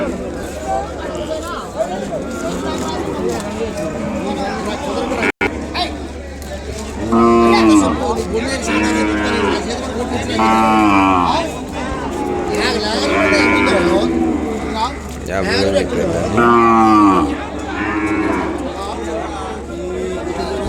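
A calf moos loudly and repeatedly in long, drawn-out calls, with crowd chatter and other noise of a busy livestock market in Kodada, Telangana, behind it.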